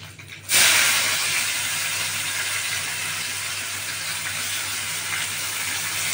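Chopped onion drops into hot oil in a wok already holding whole garam masala, bursting into a loud hiss that then settles into a steady, close sizzle with no talk.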